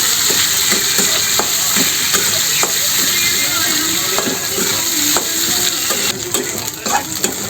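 Dried fish (shutki) sizzling in a hot pan while being fried for shutki bharta, a loud continuous hiss broken by repeated scraping knocks of a stirring utensil against the pan.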